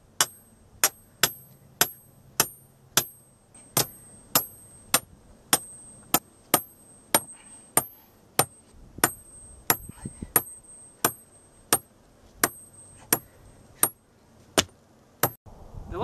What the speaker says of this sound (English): I'm going to hammer it straight down through all the layers of bags